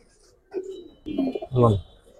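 A pair of Giribaz pigeons for sale coo in short, close bursts after a brief silence, the last one loud and throaty, with a nearby voice mixed in.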